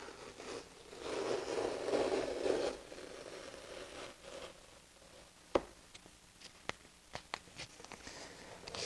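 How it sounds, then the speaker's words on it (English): A cut-out paper template for a toy Corvette LED tail light peeled off its sticky backing: a few seconds of close, soft tearing rasp, then scattered small ticks and taps from handling. "once you got the template cut out, you're going to peel it off"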